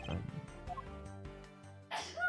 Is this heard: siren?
no